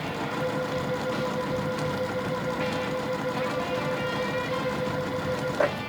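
A sewing machine runs a quarter-inch seam along quilt fabric with a continuous, even motor whir, close and steady, ending in a brief higher-pitched blip.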